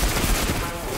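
Rapid gunfire aimed at a servitor in the video game Destiny 2, a dense, loud burst of repeated shots packed tightly across one brief second.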